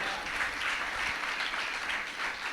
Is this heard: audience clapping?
yes